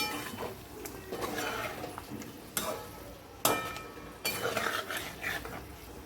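A spoon stirs yogurt into egg biryani in a metal pot, giving close scraping and clinking with a few sharp knocks against the pot's side, steady and moderately loud.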